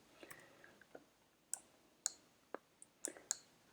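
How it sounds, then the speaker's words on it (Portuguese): Computer mouse clicks and an Enter key press sound as a few faint, sharp, isolated clicks spaced irregularly over quiet room tone, close by and alone. "vou dar um Enter, vou clicar no botão pesquisa Google"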